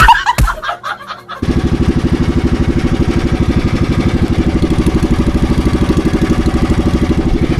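A boat engine runs at sea on calm water, chugging loud and close in a fast, steady rhythm after a few brief knocks and clatters at the start.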